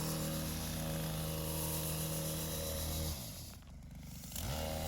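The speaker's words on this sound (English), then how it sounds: "the Kombi system is doing a good job of cleaning both the layer of ice" A STIHL Kombi power sweeper clears a layer of ice and snow with a loud, continuous engine drone and whirring brush. The roar dips briefly near the end, then picks back up.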